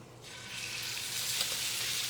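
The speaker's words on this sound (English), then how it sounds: "the signature sizzle tells you your pan is nice and ready" Beef dropped into a pan of hot, shimmering sesame oil, bursting into a loud, bright, continuous sizzle that swells right after it hits and keeps crackling steadily.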